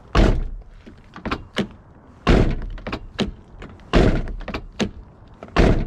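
A series of sharp thunks and clacks, the faulty door handle of a 1998 Eagle Talon TSi being worked and the door knocked several times in close succession, loud and near.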